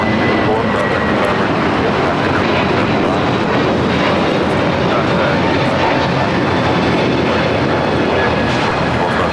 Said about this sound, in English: JetBlue A321 now rolling down at 25 right.